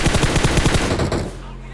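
An automatic rifle fires a rapid burst on the Livik map in PUBG Mobile. About a dozen loud, close shots crackle in quick, even succession, then cut off into a short ringing tail.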